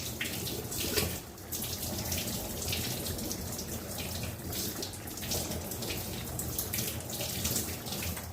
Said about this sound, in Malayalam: കറിവേപ്പില ഞാൻ പിച്ചിക്കൊണ്ട് ഒന്ന് കഴുകട്ട് വൃത്തിയായിട്ട്